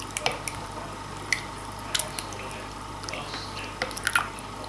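Calamansi marinade for bistek is stirred in a bowl with soft, wet squishing and light scattered clinks of a utensil against the dish, quiet and close with low background hum.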